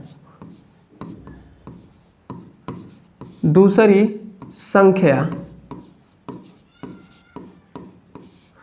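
Chalk or marker tapping and scraping across a board while a maths solution is written out, short repeated strokes with a brief stretch of talking in the middle.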